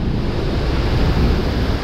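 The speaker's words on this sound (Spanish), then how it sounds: "La cascada es impresionante." Waterfall at Misol-Ha in Chiapas, a steady, loud, broadband roar of falling water with strong low rumble and wind buffeting on the microphone, continuous and close throughout.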